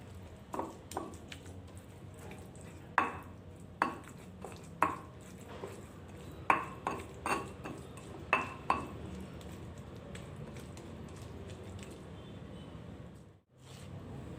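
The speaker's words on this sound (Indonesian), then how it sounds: "Kemudian ulek kembali agar asamnya ini tercampur merata dengan bumbu kacangnya ya." A mortar and pestle strikes and grinds tamarind into Sundanese lotek peanut sauce, giving sharp, separate knocks at an irregular pace that thin out toward the end, close and fairly quiet.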